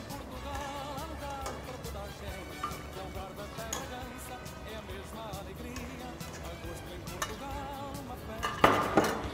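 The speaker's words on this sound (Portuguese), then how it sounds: "Fecho a panela novamente" Soft kitchen clinks and rustling while cooking duck rice, then a metal cooking pot lid clatters shut near the end, loud and close.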